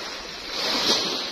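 Calm sea at a rocky beach in Camiguin laps gently; a soft, diffuse wash of small waves swells briefly then eases, faint and steady with a little wind.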